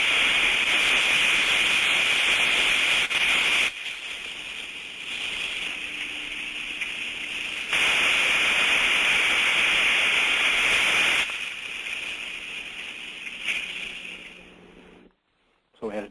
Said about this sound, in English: So a good trap, we're looking for that distinct on-off cycle